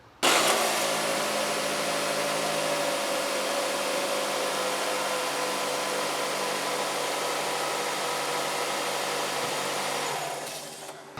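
A Nissan Rogue engine, just fitted with new spark plugs, starts abruptly and then runs at a steady, even idle for about ten seconds before cutting off near the end, with no talking.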